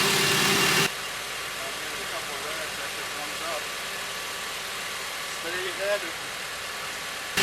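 A 7th-generation Honda Civic engine idles while warming up, a steady, low hum up close, a brief louder burst at the start, and faint voices murmuring underneath.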